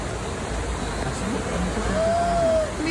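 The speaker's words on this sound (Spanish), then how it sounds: "Miren el río allá abajo" A river rushes far below a high cliff at the Devil's Pulpit gorge, a steady broad hiss of distant water with one brief whistle-like tone over it.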